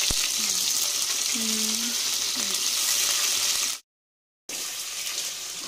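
Curry leaves hit a pan of chicken curry and set off a loud, steady sizzling hiss that carries on with a brief break. Faint voices sit low beneath the sizzle.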